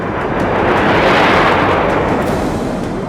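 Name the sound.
explosion from military firepower demonstration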